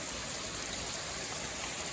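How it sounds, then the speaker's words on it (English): Summer rain in North Carolina pours down full force in a steady, dense hiss, constant and fairly close. "we had a couple days without some rain, but man, oh man, here it is again, right back full force"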